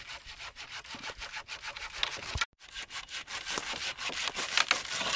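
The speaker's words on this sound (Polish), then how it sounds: "Te marketowe piłki to naprawdę jest wynalazek światowy." A cheap hardware-store hand saw cuts through a piece of wood in the forest, gathered for an A-frame emergency backpack; steady, close rasping back-and-forth strokes with a brief pause midway, no talking.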